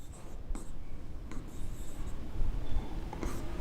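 Writing on a board during an accounting lesson, soft scratchy strokes in short bursts with brief pauses, over a low room hum.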